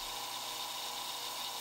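A wooden hand plane knob on a bolt spins in a drill press chuck while sandpaper is held against it, giving a steady, even whirring rub throughout.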